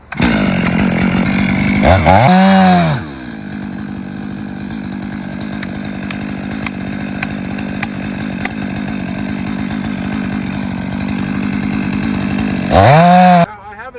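A chainsaw cutting while felling a tree, a steady loud engine drone under load, with rising and falling revs at the start and again near the end.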